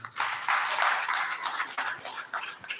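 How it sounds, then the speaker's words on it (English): Audience applause for a guest professor at a plant identification and herbarium digitization event: steady clapping from a room of people, moderately loud, swelling and then thinning out over a few seconds. "Please, a round of applause for him."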